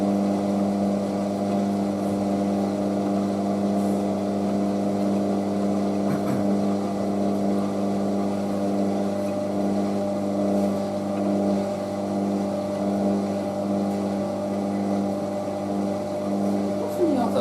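A Hotpoint WM63 Aquarius washing machine on its spin cycle, a steady loud mechanical whir and hum holding an even pitch throughout with no noticeable change.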